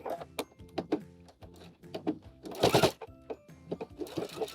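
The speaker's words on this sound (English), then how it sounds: "Going to sew a bias loop on here." A home sewing machine stitches a bias loop onto a dress, making short, uneven bursts of mechanical whirring and clunking with brief pauses, plus one louder burst partway through.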